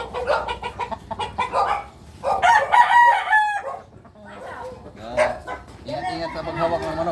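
A native chicken rooster crows loudly nearby, with hen-like clucks and a dog barking in the background, mixed with people talking.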